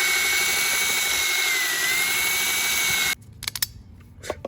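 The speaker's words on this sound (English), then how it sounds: "Using this to make this hole a little bit bigger so the screw can fit." A drill whines loud and continuous for about three seconds while enlarging a hole so a screw can fit, then stops, leaving scattered knocks and handling clatter.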